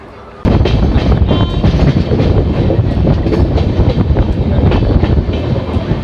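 An Amrit Bharat Express train on the Malda–Bangalore route runs through Guskara station, its wheels rumbling loud and close after a sudden onset, with continuous clattering rail noise that carries on steadily to the end.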